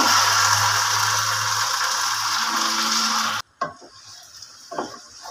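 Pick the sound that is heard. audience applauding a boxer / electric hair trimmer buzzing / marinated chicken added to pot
marinated chicken added to pot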